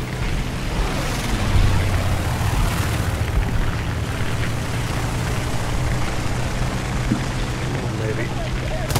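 In War Thunder, a fighter plane flies close by during an air battle, its engine a loud, rumbling drone with surging swells and a few heavy booming bursts over the continuous roar.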